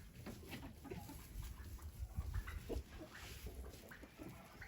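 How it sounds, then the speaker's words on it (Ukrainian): A crossbred hen, part American breed, clucking on a small farm, faint low clucks under a steady background hiss and distant ambient noise. "Ось ця красуня начебто й звичайна курочка, але вона помісна з американом"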